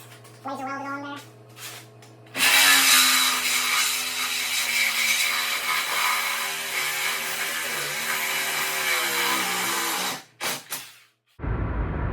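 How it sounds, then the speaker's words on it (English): A Milwaukee one-handed Sawzall reciprocating saw with a carbide-tipped Torch blade cuts aluminum during a wrecked Toyota Supra repair, a loud, sustained rasping buzz for about eight seconds that then stops abruptly, with brief talk before it. "I've got the Milwaukee. One-handed Sawzall, obviously the blade in correctly."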